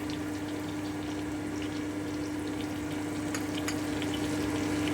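Spinach frying in a pan with turmeric and salt, a steady, even sizzle at close range with a constant low hum beneath and no voices.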